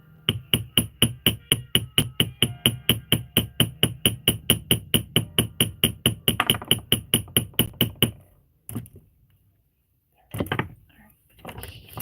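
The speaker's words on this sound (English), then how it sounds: "I'm going to hammer this first." A small hammer tapping on a metal prong setting in a fast, steady series of about thirty sharp, close metallic taps, followed by a pause and a few scattered knocks.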